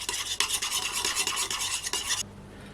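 Pizza dough ingredients with olive oil are stirred in a bowl, a rapid rhythmic scraping and swishing close by that stops abruptly near the end.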